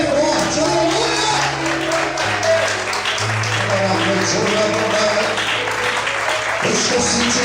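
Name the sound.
church congregation applauding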